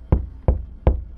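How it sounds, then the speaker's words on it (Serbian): Three evenly spaced knocks on a door, sharp and close, as a radio drama sound effect, with quiet between the raps. "Trgnuo se kad je čuo kuckanje na vratima"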